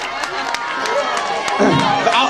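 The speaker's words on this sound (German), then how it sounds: "nochmal einen kräftigen Applaus" Crowd noise at a school prank-day song performance (Abistreich), a steady broad roar of audience applause and cheering with shouts and babble mixed in, fairly loud and continuous throughout.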